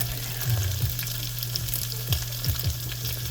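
Noodles stir-frying in a little oil for Otafuku yaki udon: a steady close sizzle with repeated scraping and stirring strokes from a utensil, no voices.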